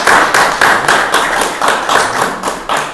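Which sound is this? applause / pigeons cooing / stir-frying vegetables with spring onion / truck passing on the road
applause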